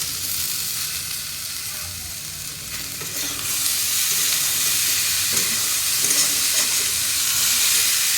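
Boiled chickpeas and potato stir-fried for ghugni, a steady loud sizzle with broadband hiss that swells partway through, with scraping stirring throughout and no voices.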